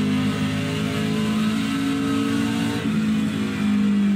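A race truck's engine drones steadily in iRacing at Iowa Speedway, a close, continuous mid-pitched hum holding a near-constant speed with a slight pitch shift midway, without any voices.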